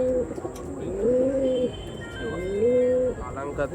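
Andhra Kalshira pigeons coo in two long, rolling calls close by, each a wavering, throaty murmur rising and falling, with a few faint higher chirps and light background noise between them.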